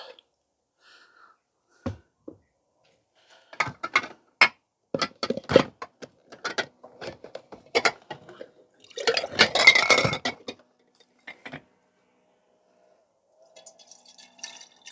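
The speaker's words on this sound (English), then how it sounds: "put some clean water through it" Clean water is poured into and rinsed through glass wine bottles for elderflower wine, giving irregular splashes, glugs and drips in scattered bursts with quiet gaps between them, heard up close and without talking.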